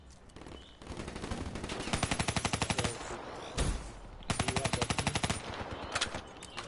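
Black Ops 3 automatic gunfire, rapid bursts of close, loud shots in rhythmic rattling strings, separated by brief pauses and a single heavier thump.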